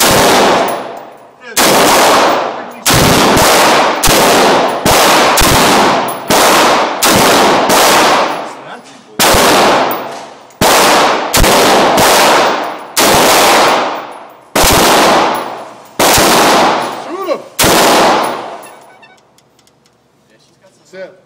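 Rapid bursts of AR-15 rifle fire, about sixteen loud, sharp reports in uneven groups of two or three, each with a short decaying echo, ending in quieter rustling.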